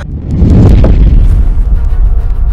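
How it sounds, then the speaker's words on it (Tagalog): Loud explosion effect for an audio drama, a heavy low boom that swells and rumbles on for a couple of seconds with crackling debris over it, meant as a burst of black smoke. "sa pagsabog ng itim na usok"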